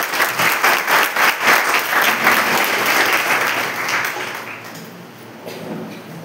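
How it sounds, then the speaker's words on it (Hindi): Loud audience applause at a school visit event, dense rhythmic clapping from a crowd that swells strongly and then gradually fades over several seconds. "एक बार जोरदार तालियां।"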